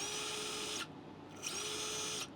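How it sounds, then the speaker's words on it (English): An Injora 2204 Fat Viper brushless outrunner motor on a 3S battery whines steadily at high speed, cuts out briefly, then spins up again with a rising tone, close and fairly loud with no talking. "Let's get it up on some speed. Again, with these brushless motors, you can get really fast."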